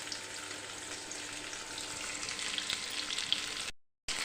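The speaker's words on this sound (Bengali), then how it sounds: "এখন পেঁয়াজ আর কাঁচা লঙ্কাটাকে একটু সুন্দর করে ভেজে নিতে হবে" Onion and green chillies fry in oil in a pan, giving a steady, close, hissing sizzle that stays even throughout before a brief cut of silence near the end.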